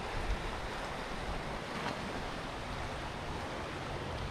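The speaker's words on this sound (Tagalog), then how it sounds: "Lakas ang hangin." Strong wind roars steadily and loudly across an outdoor setting, a continuous broadband rush with buffeting against the microphone and no voices.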